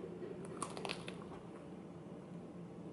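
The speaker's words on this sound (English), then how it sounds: "it's time to eat this donut." Someone bites into a Cinnamon Toast Crunch donut, giving a few soft, close crunches over a steady quiet background hiss, with no talking.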